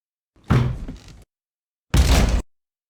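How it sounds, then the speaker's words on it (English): Pounding on a door taken from a film scene: two heavy, close thuds or bursts of banging, the first longer and ragged, the second a short solid blow, separated by silence. "And we've got some pounding on the door"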